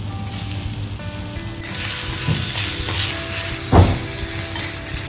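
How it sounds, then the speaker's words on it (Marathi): Onion frying in a pan while preparing masoor pulao, a steady sizzle with faint clicking textures throughout and one brief louder knock near the end, no voices. "आता कांदा भाजून घेऊया"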